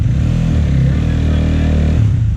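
A motocross dirt bike at an indoor practice track revs hard for a practice start, its engine a loud, close, continuous low drone that rises in pitch steadily.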